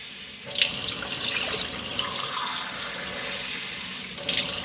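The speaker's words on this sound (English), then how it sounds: "with a measuring cup, I'm going to take 3 cups of cold" Cold tap water running from a faucet into a measuring cup, a steady splashing rush that starts abruptly after a brief pause and continues close and clear, with no talking.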